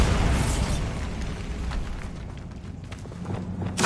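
A Bombarda spell goes off in Hogwarts Legacy with a broad rumbling blast that fades over a few seconds, followed by scattered debris and footstep-like clatter, then a sharper burst at the very end.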